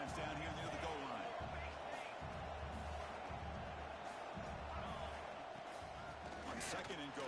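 A big crowd at an Oregon football game roars near the goal line in a stadium. The noise is a dense, steady wall of cheering, with a commentator talking over it.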